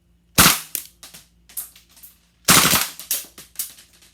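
A Knights Armament PDW fires on full auto: two loud, close, sustained bursts with a few short separate shots between them, sharp and dominant with no talking.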